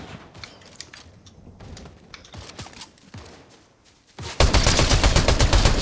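Gunfire in Fortnite no-build mode: scattered sharp shots and clicks, then a sudden loud, dense burst of firing that runs to the end.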